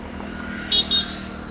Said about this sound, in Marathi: या साईडला चालली गाडी